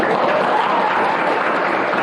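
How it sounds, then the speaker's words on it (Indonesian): A group of participants in a teacher training session applauds together, steady and fairly loud clapping that holds at an even level across the short stretch without any voices. "Sekali lagi Bapak minta tepuk tangan buat semuanya"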